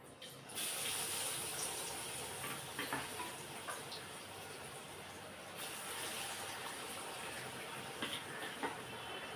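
Cauliflower pakoda frying in hot oil gives a dense, steady hiss and crackle that runs throughout, with small pops scattered across the texture.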